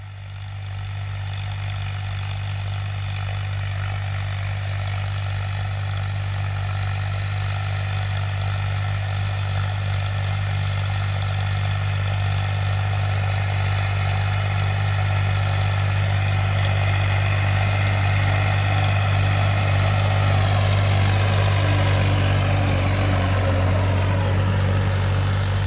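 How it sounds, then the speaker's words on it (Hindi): A Farmtrac 60 tractor engine runs steadily in a farm field, a constant deep diesel drone that holds a low, even pitch and swells slightly louder over the clip, with no voices. "भाइयों, ट्रैक्टर धाड़ रहा है खेत में।"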